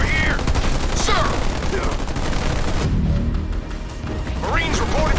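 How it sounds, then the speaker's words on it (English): Continuous rapid gunfire from a Halo Wars 2 multiplayer battle, dense bursts of shots under frequent radio-style voices from units and commanders, loud and sustained throughout. "We're under fire over here!"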